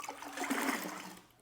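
A cleaning cloth plunges into a bucket of washing solution with one short, close splash and slosh of water.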